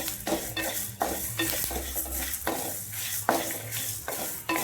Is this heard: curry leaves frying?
yes